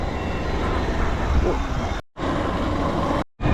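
Road traffic on a motorbike ride through a Konkan coastal fishing village in the morning, heard as a loud, steady rush of engine and wind noise broken by two brief dropouts.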